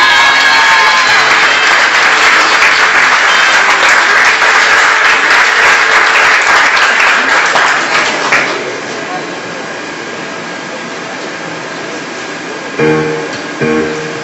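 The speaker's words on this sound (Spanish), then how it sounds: "brindémosles nuevamente un aplauso a estos promedios que reciben su reconocimiento" An audience applauds at a school award ceremony, loud sustained clapping from a large crowd that fades out, followed by quieter room noise and a few brief knocks near the end.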